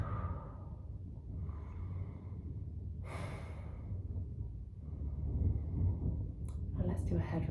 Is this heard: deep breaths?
yes